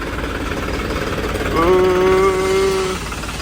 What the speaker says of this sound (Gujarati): આવી રહ્યું નવું ટ્રેક્ટર આ ટ્રેક્ટર સ્પેશિયલ એડિશન છે